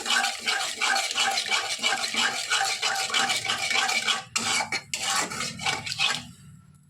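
A spoon stirs sour curd into a stuffed bitter gourd rezala in a pot, giving quick rhythmic scraping and clinking against the metal. The stirring runs steadily, breaks briefly, then resumes and stops abruptly near the end.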